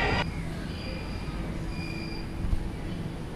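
Subway train rumbling through a deep underground metro station in Chongqing, a steady low roar with faint high squeals from the rails, heard continuously at moderate distance.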